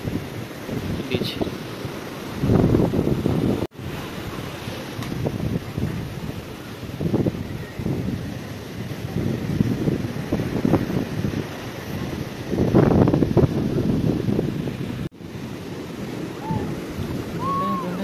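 Waves at Om Beach in Gokarna wash ashore in rolling surges under heavy wind buffeting the microphone, with a person talking intermittently over the surf.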